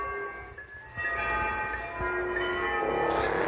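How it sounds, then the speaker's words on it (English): A struck bell rings in a video game, with sustained metallic tones that ring on and swell louder toward the end, clear and close with no speech. "So ring the bell. Ring!"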